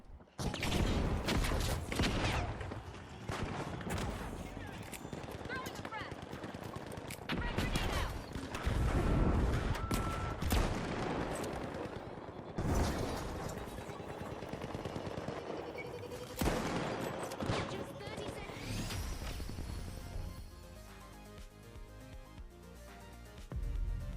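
Rapid gunfire from a tactical shooter video game match, repeated bursts and single cracks close up with mechanical clatter between them, fading to quieter game sounds near the end, with commentary voices underneath.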